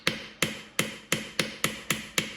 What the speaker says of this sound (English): A few taps of the hammer did the trick